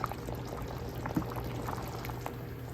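Hamburger vegetable soup with broth is ladled from a pot, mostly vegetables with little liquid: soft, steady sloshing and pouring with a faint clink partway through, quiet and close, with no talking.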